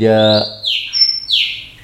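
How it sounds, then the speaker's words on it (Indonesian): Birds chirp on a morning: a few bright, sharp tweets and descending calls ring out loudly and close, with a short harmonic call at the start. "Seperti biasa kalau pagi dengar kicauan burung, gemericik air memancur"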